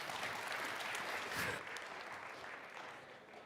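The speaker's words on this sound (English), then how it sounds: "Please, a round of applause." Audience applause at a tech conference on a spotlight stage, steady clapping across the hall that swells briefly and then tapers off, with no talk over it.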